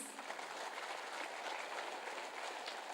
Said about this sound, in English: can we have a bigger round of applause, please?